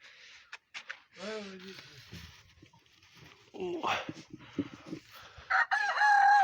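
Hens in a chicken coop, Araucana and Poltava clay breeds among them, cluck and squawk up close while a person talks quietly. A rooster-like crow rises partway through, with more clucking toward the end.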